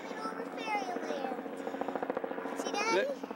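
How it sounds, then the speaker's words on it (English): A helicopter flies overhead with a steady rotor drone and rhythmic chopping pulses that build toward the end, heard under continuous talk from an adult and a child. "Helicopter's coming over fairy land."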